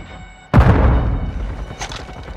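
A Semtex grenade from Call of Duty Modern Warfare 2 goes off in a single sudden, loud, close boom, followed by a rumbling tail that slowly fades.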